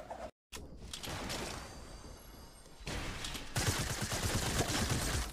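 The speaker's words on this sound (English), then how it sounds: "I'm getting shot at." Fortnite gunfire crackles as a rapid burst of shots, fairly loud and dense, with a brief dropout early on and heavier firing toward the end.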